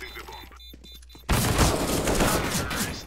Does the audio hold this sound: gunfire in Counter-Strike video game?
yes